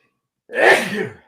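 A single sharp sneeze bursts out after a moment of silence, loud and close, then fades quickly.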